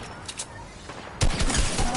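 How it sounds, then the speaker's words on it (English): Gunfire in the Fortnite video game starts as faint distant shots, then turns into louder, rapid bursts in the second half, with voices talking over it. "somebody's shooting at me"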